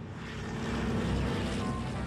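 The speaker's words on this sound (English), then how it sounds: "The noise of the 4-engine planes in constant succession is unbearable." A steady, droning roar of four-engine propeller planes flying overhead in constant succession fills the air continuously, low and throbbing, with no voices.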